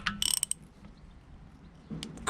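A socket wrench loosens a very tight nut on a Triumph Bonneville T140 motorcycle during an oil pressure relief valve service, with a short burst of quick ratcheting clicks, a pause, then more faint mechanical clicking, quiet and close.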